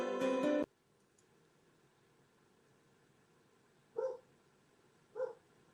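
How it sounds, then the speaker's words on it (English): Dogs barking indoors, a loud burst of several rapid barks at the start, then two fainter single barks further off after a quiet gap. "I have to yell at the dogs. Can you hear them?"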